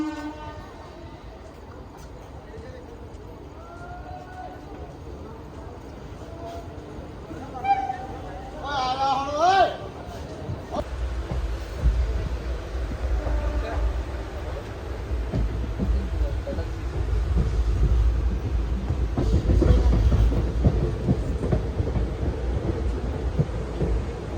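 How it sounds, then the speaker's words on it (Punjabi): A train rumbles in, growing louder with low heavy rolling noise and a horn-like tone, under background chatter and activity. "ਲਓ ਜੀ ਆਪਣੀ ਟ੍ਰੇਨ ਆ ਗਈ ਆ"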